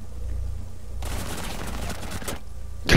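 Rainbow Six Siege gunfire comes as a sustained rapid burst of shots, close and loud, followed by a brief pause and a sudden sharp blast at the very end.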